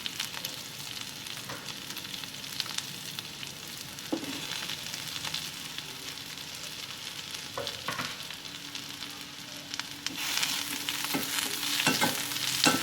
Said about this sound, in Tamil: இது எல்லாத்தையும் நல்லா வதக்கிடலாம்.